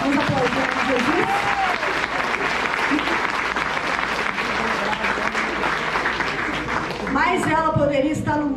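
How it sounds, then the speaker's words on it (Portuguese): Loud, sustained congregation applause in a church youth service, with dense clapping throughout, cheering voices mixed in, and a few shouts near the end. "Vamos aplaudir Jesus."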